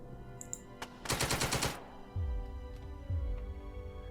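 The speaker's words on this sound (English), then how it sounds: "Right, machine gun as well then." Machine gun firing in the Second Front video game, a rapid burst of about ten sharp shots lasting under a second, followed by lower thumping booms, with no speech.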